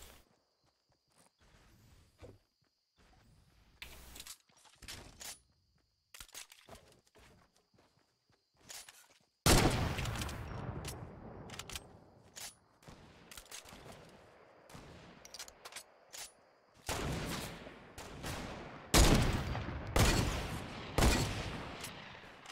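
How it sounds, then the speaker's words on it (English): Gunfire in a sniper shootout video game comes in sharp, irregular bursts and volleys, sparse at first and then dense and loud, mixed with footstep-like clatter. "Getting shot at."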